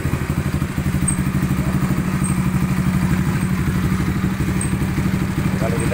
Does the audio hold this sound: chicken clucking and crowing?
no